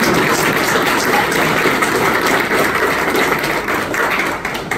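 Applause fills a hall at an event honoring torchbearers of liberty in Paraguay, a dense, steady wash of many hands clapping at close range for the whole stretch, with no speech over it.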